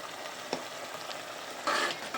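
Masala cooking slowly in oil in a pan, a soft continuous sizzle with a spoon knock and a brief louder stirring burst near the end.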